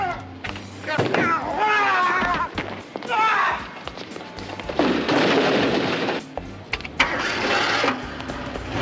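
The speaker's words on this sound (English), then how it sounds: "Shoot her, Nunzio." Gunfire breaks out during a comedic robbery scene: bursts of harsh, noisy blasts come in two clusters midway and near the end, mixed with shouting and dialogue.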